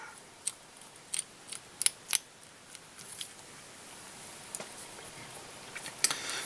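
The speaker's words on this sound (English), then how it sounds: "Snip that off." Scissors snip off a rabbit strip while a fly is tied, giving a few sharp, quiet clicks and snips close by in an otherwise hushed setting.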